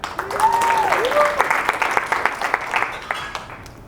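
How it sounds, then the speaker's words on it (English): Audience applause at a 2017 blogging conference session, a steady wash of clapping through the whole stretch, with whoops and voices calling out over it early on before the claps thin toward the end. "Clap it up if you're ready to make money."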